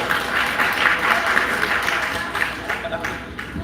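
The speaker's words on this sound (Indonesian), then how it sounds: "Tepuk tangan untuk Prof." Audience applause for a professor at a fertilizer question-and-answer session, a few seconds of steady crowd clapping with a voice speaking over it near the end.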